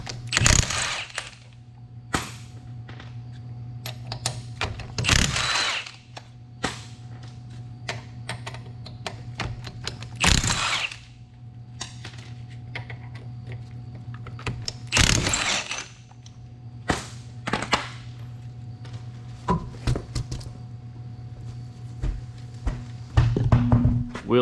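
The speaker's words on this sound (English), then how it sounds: "So let's go ahead and pull the wheel off." Mechanical clanks, ratcheting and sharp metallic thunks spaced every few seconds while the wheel comes off a 2001-2005 Honda Civic, close and fairly loud over a steady low hum, no talking.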